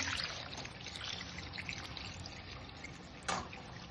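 Water trickles and pours steadily into a cooking pot at close range with a light splashing texture, and a brief louder splash comes near the end.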